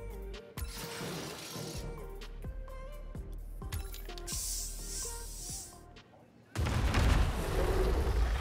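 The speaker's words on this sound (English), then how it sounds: "Tier 42 Beast Box Goal Explosion." A Beast Box goal explosion effect in a car soccer video game: a run of rhythmic metallic clanks and ratcheting mechanical hits, then a loud, noisy blast near the end.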